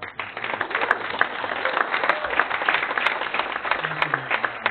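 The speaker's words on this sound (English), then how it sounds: "let's give Mayor Brown and the City of Jacksonville a round of applause" A breakfast meeting audience gives a round of applause for a city mayor, a dense, steady wash of many hands clapping throughout, with a brief murmur of voices near the end.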